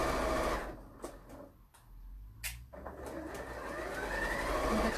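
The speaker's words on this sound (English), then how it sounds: "I'm going to stitch this seam." A sewing machine runs in bursts as it stitches a standard seam, the mechanical whirr close and fairly loud, pausing briefly midway before resuming steadily.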